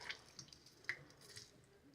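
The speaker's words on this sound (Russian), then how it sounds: "Я еще не варил его, я только его промываю." Faint, sparse drips and soft squishy trickles of water while rice is rinsed in a kitchen, a few isolated close drops over quiet background.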